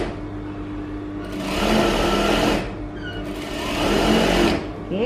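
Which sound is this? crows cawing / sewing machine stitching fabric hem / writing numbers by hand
sewing machine stitching fabric hem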